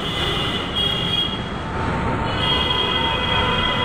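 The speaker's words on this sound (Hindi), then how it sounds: "metro line" Metro train rolling along an elevated line in Lucknow near Badshah Nagar station, a steady loud rumble of wheels with a faint high squeal running throughout, no voices.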